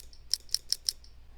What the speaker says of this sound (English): So this is the sound of the hand sanitizer bottle being flipped open.